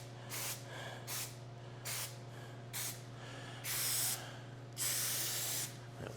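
Spray can hissing onto a convertible interior quarter trim panel for a 1967 Pontiac Firebird, in a series of short bursts followed by two longer, louder sprays over a steady background hum.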